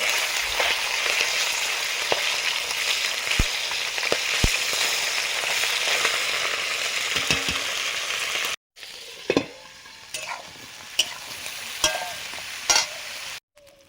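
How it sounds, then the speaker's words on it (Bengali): Tangra fish frying in hot oil in a pan, giving a dense, loud sizzle with crackling pops and stirring clatter. It is briefly cut off, then continues more softly with occasional scrapes and clinks. "পরের ট্যাংরা মাছগুলো ভাজা হয়ে গেছে"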